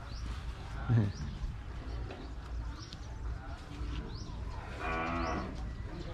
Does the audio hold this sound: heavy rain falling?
no